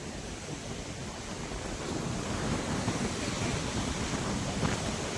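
Sea waves roll in with the incoming tide near a coastal Mahadev temple, a steady broad wash of surf mixed with wind buffeting the microphone, continuous and fairly loud with no voices.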